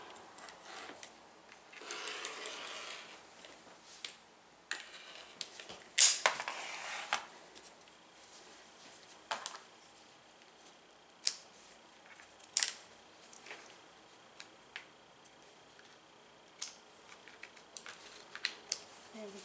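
Rotary cutter cutting out fabric for a reusable straw case: faint, close rolling cuts and scattered light clicks and rustles of handling, quiet overall with brief louder taps.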